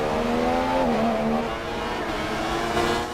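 Racing engine of a McLaren Formula 1 car in the F1 2016 video game, heard onboard: a loud, steady high whine whose pitch climbs, dips at a gear change, then holds, with no talk over it.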